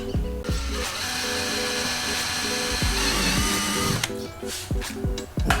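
A power drill whines steadily at close range, boring a 1/8-inch hole for a motorcycle tour pack brace, its motor pitch wavering as the bit bites, with a few brief pauses and restarts near the end.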